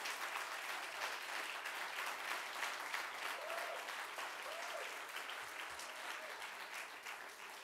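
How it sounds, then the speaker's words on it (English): A room of listeners applauds the city's Conservation Advisory Council during Peekskill's State of the City address, a steady, even wash of clapping that holds for several seconds and tapers slightly toward the end. "Please clap for our Conservation Advisory Council."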